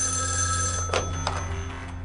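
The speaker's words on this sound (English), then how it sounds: "Sheriff Crowder receives a phone call." An old-style telephone bell rings in a 1972 sheriff's office setting, a bright metallic trill with a steady hum underneath, heard up close and alone.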